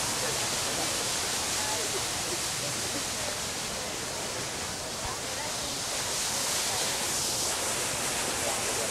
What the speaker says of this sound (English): So next we're going to cut through by the waterfall.